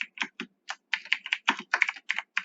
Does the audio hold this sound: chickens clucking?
no